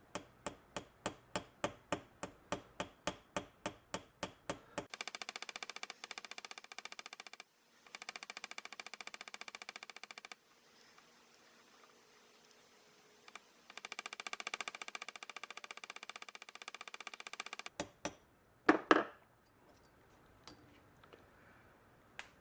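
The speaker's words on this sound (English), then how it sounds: "this is just a little jeweler's hammer. I'm going to be very gentle with this." A small jeweler's hammer taps sharply, gently peening the pins of a pocket knife with bone scales, in a quick, even series of light strikes, then a few more scattered taps, faint and close amid quiet handling noise.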